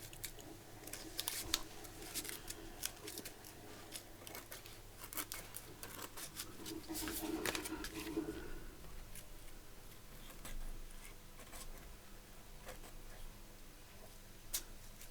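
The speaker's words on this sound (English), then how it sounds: "I think I'm going to use these scissors" Quiet, intermittent snips and clicks of scissors working through material, with soft rustling between cuts and no talking.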